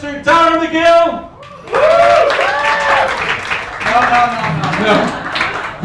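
A crowd at an improv comedy night in a Madrid bar claps and cheers for the performers, loud and steady applause that swells after a brief lull, with an amplified host talking over it.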